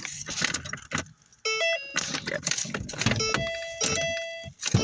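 Keys jangle, then an old car's starter cranks and the engine fails to catch, with chimes and broadband bursts throughout, close up and with no talk.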